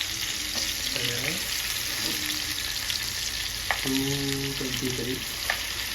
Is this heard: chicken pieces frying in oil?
yes